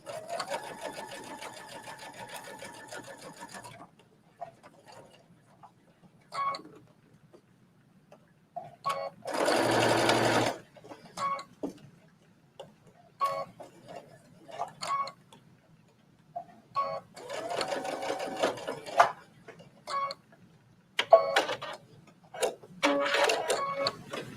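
A sewing machine basting the pieces of a trench coat: steady stitching bursts of rapid mechanical ticking, with pauses and fabric handling between runs, near and moderately loud.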